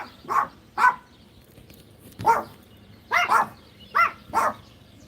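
Neighbor's dogs barking outdoors at a moderate distance, about seven separate barks in small clusters, with quiet gaps between them and no talking.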